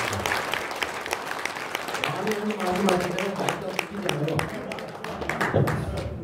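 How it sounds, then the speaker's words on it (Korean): Core party members at a gathering give a round of applause: steady, sustained crowd clapping with some voices talking underneath. "큰 박수로 선물을 한번 드리도록 하겠습니다"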